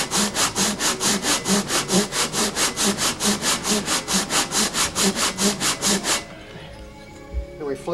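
Someone hand-laps a Harley-Davidson Shovelhead cylinder head in steady back-and-forth strokes, an even rhythmic rasping close up for about six seconds, and then the strokes stop.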